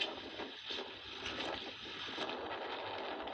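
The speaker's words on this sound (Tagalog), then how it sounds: "dinig na dinig yung hangin" Wind buffeting a camera on a fishing boat at sea near an island, a steady faint rushing roar with gusty swells and no voices.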